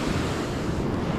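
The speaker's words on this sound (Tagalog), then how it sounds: "malalaki pa ng alon na yan." Big ocean waves roll and crash along a fishing shore, a dense, loud, continuous roar of surf mixed with wind buffeting the microphone, with no voices.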